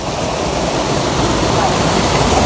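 A forest waterfall gives a steady, loud rushing roar of falling water that fills the whole clip with unbroken broadband noise.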